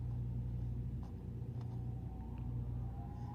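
A tractor truck idles and begins its slow pull-up before backing into a loading dock, giving off a low, steady diesel rumble close by with no voices.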